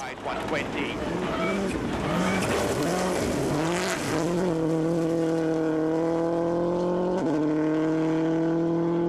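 Subaru and Mitsubishi rally cars race on a WRC stage in Japan, engines holding loud, steady high-revving notes with tire noise and gear changes, under continuous commentary.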